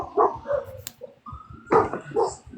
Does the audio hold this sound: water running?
no